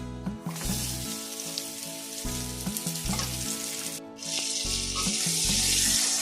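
Onion, garlic and green chilli frying in hot oil over tempered black cumin, a loud continuous sizzle with stirring, swelling brighter as the pan heats.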